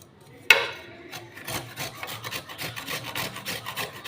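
Peeled, washed raw papaya is rubbed by hand against a grater, starting with a sharp scrape and then settling into a steady, rhythmic rasping of strokes, close up with no voices.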